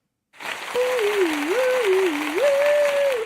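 Studio applause on a talk show, a steady wash of clapping that fills the whole stretch, with a sustained musical tone or sound effect gliding up and down over it.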